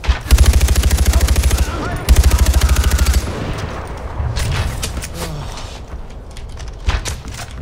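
Far Cry 4 gunfire, with two loud rapid automatic bursts of evenly spaced shots, then scattered single shots and impacts trailing off over a quieter background.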